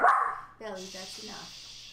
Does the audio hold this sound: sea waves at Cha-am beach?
no